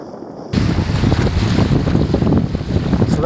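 An engineless sailboat heads out into Biscayne Bay under sail, its hull rushing through waves amid loud, steady wind buffeting the microphone, with a sudden gust building at the start and no talking.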